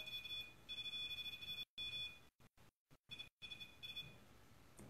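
A phone with a dying battery, inside a house during a paranormal investigation, gives a series of thin, high, repeated electronic beeps. The sound cuts out in several brief gaps partway through.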